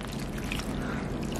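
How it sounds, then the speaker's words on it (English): Water poured from a cup into a bowl of cornstarch while mixing oobleck, a short, close, steady trickling pour with no talking. "Now I'm gonna add 1 cup of water."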